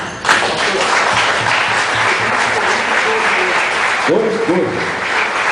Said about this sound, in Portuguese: Aplauda o Rei Jesus